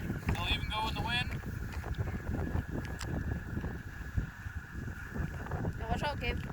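Cold wind blowing outdoors, a steady rushing buffet against the microphone throughout, with people talking and calling out over it.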